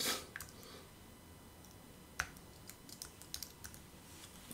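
Someone types on a computer keyboard to search an online dictionary, a quick burst of soft key taps followed by scattered sharp clicks, close and fairly quiet with no talking.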